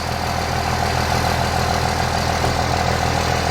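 A 2002 Dodge Cummins diesel pickup with a loud, freshly reclamped exhaust, its engine rumbling heavily and steadily close by, a thick low diesel drone without a clear rise in revs.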